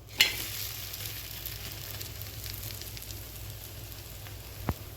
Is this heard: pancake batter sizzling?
yes